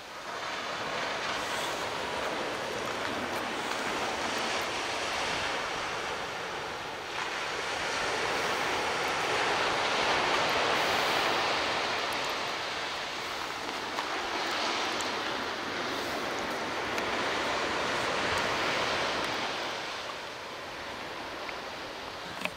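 Ocean surf at Loch Sport surf beach on a calm day at low tide, a steady broad wash of waves with gentle swells in loudness and some wind, no voices.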